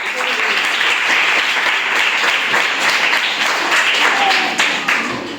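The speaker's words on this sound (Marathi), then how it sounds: "लावण्यासाठी सगळ्यांनी टाळ्या वाजवायच्या" Schoolchildren at a primary school quiz clap together in a lively, sustained round of applause, close and loud, the rapid slaps blending into a steady wash before tapering near the end.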